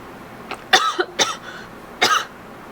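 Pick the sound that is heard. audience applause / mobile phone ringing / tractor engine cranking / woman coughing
woman coughing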